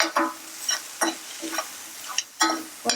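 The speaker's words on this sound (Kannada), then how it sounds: "ಗರಂ ಮಸಾಲ, ಧನಿಯಾ ಪೌಡರ್ ಆ್ಯಡ್ ಮಾಡ್ಕೊಂಡು ಚೆನ್ನಾಗಿ ಕಲಿಸ್ಬೇಕು" Garam masala and coriander powder are stirred in a frying pan. A utensil scrapes the pan in short, rhythmic strokes, about twice a second, over a faint sizzle.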